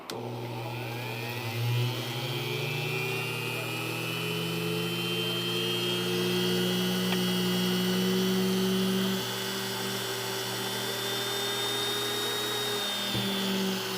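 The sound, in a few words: drilling holes for surge protector installation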